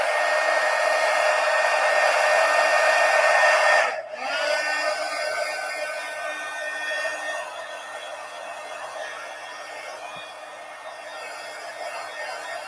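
A hair dryer blows steadily to dry paint on a collage art journal page, a loud, close, continuous whoosh with a brief dip and shift in pitch partway through, then running on evenly with no voices.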